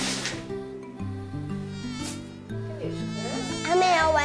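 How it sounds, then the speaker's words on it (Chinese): Mosquito buzzing close by, a thin high whine that drifts in pitch and swells louder toward the end, heard alone without talk over several seconds. "他们有蚊子。"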